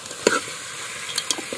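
Spice tempering stirred in a pan over a gas flame, with a few brief scraping stirs and a soft sizzle, close and fairly quiet.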